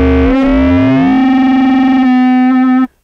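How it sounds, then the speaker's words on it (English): Korg Volca Modular synthesizer with wave folding: a loud, sustained, buzzy distorted tone holding one steady pitch with a rich stack of overtones, briefly sweeping at the start and turning rougher before cutting off abruptly near the end. "if we now combine it with the wave folding"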